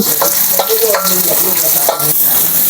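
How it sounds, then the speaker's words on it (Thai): Shallots fry in hot oil with a loud, close, continuous crackling sizzle, broken by rhythmic stirring scrapes about every half second. No voices. "เจียวหอม"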